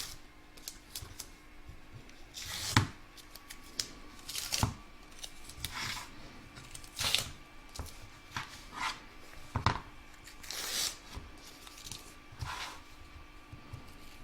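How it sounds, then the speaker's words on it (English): Scissors snip away excess fabric, batting and cutaway stabiliser from a machine-embroidered applique, making a series of crisp, close cuts at an irregular pace with soft rustling in between. "remove all the tape and cut away all excess fabric, batting and cutaway stabiliser from both front and back"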